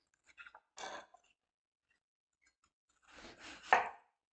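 A peeled apple being cut into small slices for a traditional apple crumble: two short bursts of knife-on-board chopping, a few quick cuts near the start and a denser cluster toward the end, with silence between.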